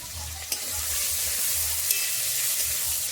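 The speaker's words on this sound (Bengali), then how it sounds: "এরকম ভাজতে ভাজতে টমেটোটা কত সুন্দর গলে গেছে" Chopped tomato with a pinch of salt fries in a pan for a spiced mung dal, giving a steady close sizzle with a few faint stirring clinks and no voices.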